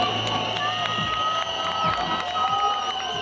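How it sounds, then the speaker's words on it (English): An audience at the Miss Universe 2025 pageant cheers and applauds loudly for Miss Mexico, producing a sustained roar of crowd noise, shouts and a constant tone that holds steady across the moment. "Ladies and gentlemen, a round of applause for Miss Mexico"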